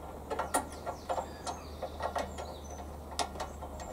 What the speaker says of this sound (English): do up the little black hand wheel, and I can actually screw it up tight